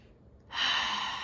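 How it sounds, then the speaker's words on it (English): A single deep breath drawn in, starting quietly and swelling into a loud, airy rush of inhaled air that holds steady, close to the microphone. "I'm going to take a deep breath"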